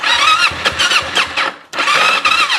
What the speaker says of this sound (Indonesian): Nah, ini kalau dihidupkan, kalau sudah mati begini biasanya susah.